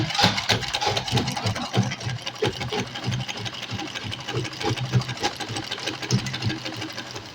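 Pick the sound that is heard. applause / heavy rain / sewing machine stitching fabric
sewing machine stitching fabric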